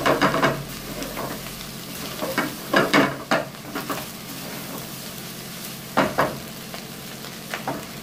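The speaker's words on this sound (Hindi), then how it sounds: "इनको अच्छी तरह से फ्राई कर देना है, 3 से 4 मिनट" Ingredients for jungli pulao fry in a pan, a steady sizzle under intermittent louder stirring scrapes and clinks, close and moderately loud, with no talking.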